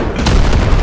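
M1A4 Abrams tank cannon firing in the video game Delta Force: a single heavy, close boom with a deep rumbling body that fills the brief moment, loud and unaccompanied by talk.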